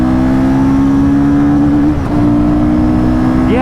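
A Bajaj Pulsar NS400Z motorcycle with a quickshifter launches hard in a performance test, its engine droning loud and steady, pitch climbing, then dipping briefly at a gear change before rising again.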